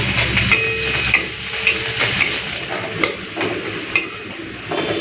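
Crushed garlic and dried red chilli fry in hot oil while a utensil scrapes and stirs in the pan, with a steady sizzle and regular clinking strokes nearby.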